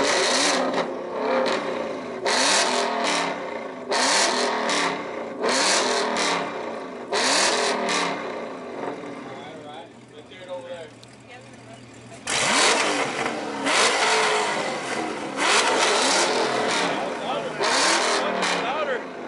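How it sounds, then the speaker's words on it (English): Ford Mustang exhaust revved hard during an exhaust battle, loud repeated bursts in two clusters with a quieter gap between, people talking and shouting over it. "The Mustang's louder. The Mustang's way louder."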